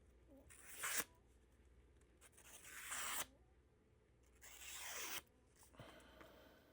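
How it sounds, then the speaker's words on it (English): A sharpened knife blade slicing through paper after honing on fine stones, heard as three or four separate dry rasping strokes, each swelling to a brief peak, close and fairly quiet with short pauses between. "And then we've got some paper to cut."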